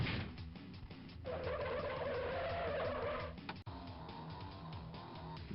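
Monster trucks race along a track in Monster Truck Madness, engines droning and revving steadily while tires skid and scrape, with a brief sharp knock partway through.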